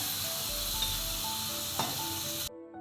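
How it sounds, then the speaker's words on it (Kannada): Spice tempering sizzling in hot oil for a potato gravy, a steady close frying hiss lasting a couple of seconds with faint stirring clinks, then cutting off abruptly. "ಒಗ್ಗರಣೆ ಹಾಕೋಣ ಗ್ರೇವಿಗೆ"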